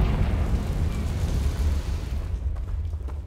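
In Hogwarts Legacy, a Confringo fire spell explodes with a loud, rumbling boom that roars throughout and thins out toward the end, with no voices.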